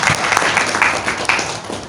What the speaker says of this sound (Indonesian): Aplaus dulu untuk perusahaan ini.